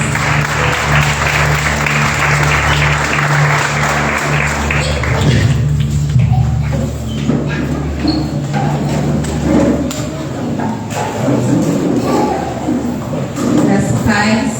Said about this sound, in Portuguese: Que você possa aplaudir ao Senhor nesta noite, amém?